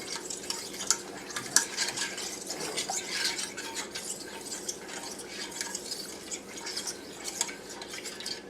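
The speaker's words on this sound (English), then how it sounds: "we're going to get this mixed together" Milk is whisked into chicken pot pie filling, a steady close wet stirring with light rhythmic clinks of the utensil against the bowl and no talking.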